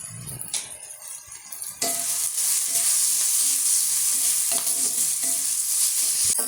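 A spoon scrapes and stirs a urad dal mixture roasting in a pan, with a steady dry sizzle and soft scraping strokes throughout, the sound growing louder and fuller partway through.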